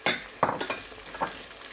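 Onions stir-fry with garlic and ginger for dhaba-style chana daal, a soft sizzle with a few sharp metallic clinks and scrapes from a utensil against the pan.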